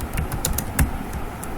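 Fingers type router configuration commands on a computer keyboard, producing a quick, irregular run of close clicking keystrokes with one heavier key press partway through.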